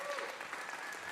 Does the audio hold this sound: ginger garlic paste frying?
no